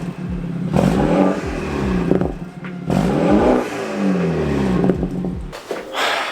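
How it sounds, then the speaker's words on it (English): BMW F30 with a BootMod3 tune, exhaust revving in repeated rises and falls with crackling burbles between, loud and close, no talk. "So here is the exhaust at the moment."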